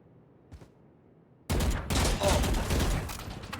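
Turret gunfire erupts suddenly during an esports video game finals match, a loud, dense burst of rapid shots that continues to the end after a brief faint click and near-silence.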